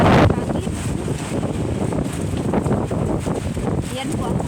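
Fierce typhoon gusts in Taiwan batter the microphone with a loud, constant rushing roar, rising and falling in waves as someone talks underneath.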